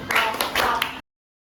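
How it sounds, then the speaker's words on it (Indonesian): Students in an Islamic religious education classroom clap their hands together in a quick, close, rhythmic pattern of sharp claps lasting about a second, then go silent. "Silakan tepuk tangan 2 kali."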